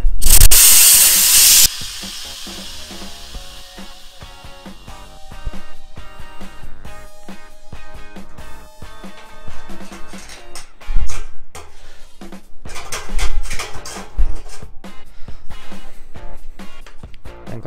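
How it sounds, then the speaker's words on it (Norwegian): A pressurized beer keg filled with Star San sanitizer solution being opened, a loud sharp hiss of escaping gas for about two seconds, followed by quieter handling clatter and sputtering bursts. "så den står under trykk, så den må jeg da åpne og tømme for Starsand"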